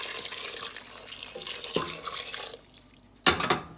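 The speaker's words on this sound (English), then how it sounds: "I'm gonna go in here and add some hot water into this." Hot water runs into a pot of oxtail, a steady, moderately close splashing stream that pauses briefly, then ends in a sharp burst of pouring.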